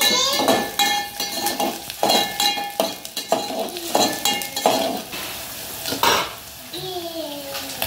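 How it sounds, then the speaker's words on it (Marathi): Chopped onion and green chillies sautéing in a pan for a Marathi vegetable dish, with a steady sizzle under repeated scraping and clinking stirs of a spoon against the pan. "कांदा आणि मिरचा छान परतून घेतला."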